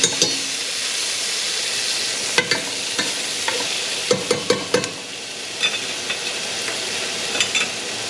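Onions and plenty of garlic fry in a pan after beef ribs have been browned, a constant close sizzle broken by sharp, irregular spatula scrapes and taps against the pan.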